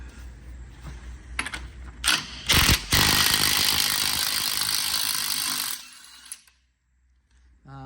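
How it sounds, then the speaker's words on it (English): Pneumatic impact wrench rattling nuts off a Mk3.5 VW Golf in a garage, loud bursts of hammering then a sustained buzzing run of several seconds before cutting out to quiet. "get the rest off with a windy gun"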